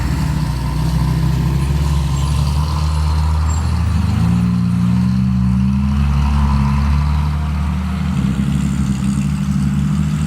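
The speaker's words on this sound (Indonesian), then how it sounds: "cukup banyak sekali truk yang membawa tanah timbunan lalu lalang" Heavy trucks hauling fill soil at a toll road construction site rumble past with a loud, steady diesel drone, engines shifting pitch as they move by, with a hiss of air brakes.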